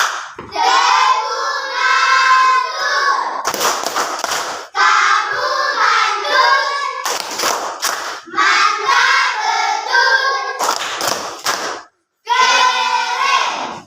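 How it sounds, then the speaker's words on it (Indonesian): Classroom applause for a student group: short, sharp bursts of clapping hands break in between stretches of loud children's voices chanting together. "Baik, kita kasih aplaus dulu."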